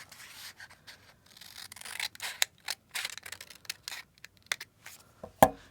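Scissors snip through paper to cut out a triangle shape, a run of close, quiet crisp cuts and rustles, with a sharper snap near the end.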